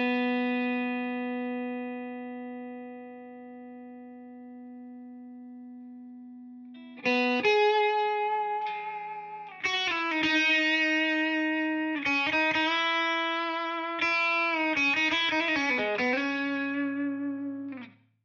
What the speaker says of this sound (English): Subtle ambience below my lead tone or something.